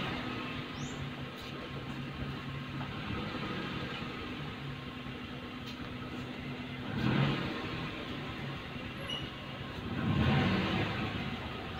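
A car engine runs steadily while the vehicle reverses and then pulls forward, holding a low hum with two brief swells in revving partway through, heard alone without talk.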